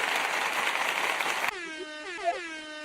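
An air horn blares loud and near, a dense sustained blast that cuts off midway into a rising, wavering horn-like tone with stacked overtones, giving a short celebratory birthday shout-out effect with no talking.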